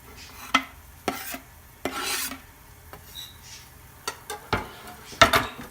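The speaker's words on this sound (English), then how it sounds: "we're just going to gently stir for a little bit, just to let all the flavors get to know each other" Onions, basil and garlic stirred in a pan: a series of short scraping rasps of a utensil against the pan, close and irregular, with a faint sizzle between strokes.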